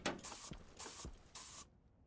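A spray paint can hisses in the Stationeers video game in three or four short, loud bursts separated by brief gaps and small clicks, then cuts to silence.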